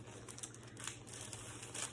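Soft, continuous crinkling of plastic packaging around a book, quiet and close, with small crackly bursts as it is handled.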